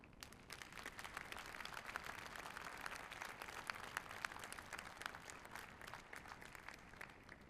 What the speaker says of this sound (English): Let us give family and friends a great big Husker round of applause